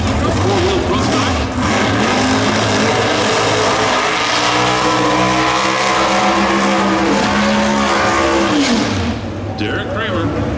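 Pro Stock drag race cars at Route 66 Raceway in Chicago roaring down the strip, loud engine howl with rising and falling pitch sweeps that fade near the end.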